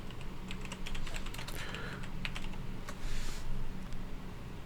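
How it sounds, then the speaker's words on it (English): Fast, close keyboard typing into a spreadsheet on a computer, a steady patter of key clicks in uneven bursts with no talking. "I'm typing in our spreadsheet"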